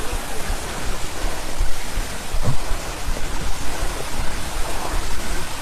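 A waterfall in a hilly forest setting roars with a loud, steady rush of broadband water noise that surges slightly and carries no talking.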